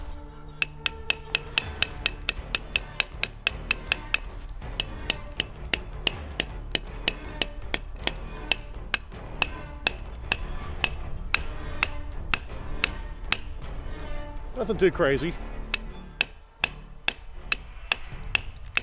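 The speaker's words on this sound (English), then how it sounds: "This is where we smack up against a tree, much like we would with hammering a nail" An Osight S flashlight is smacked against a tree like a hammer in repeated hard metallic knocks, a steady, rapid rhythm for the whole stretch, with a brief scraping rattle near the end and a few muttered words.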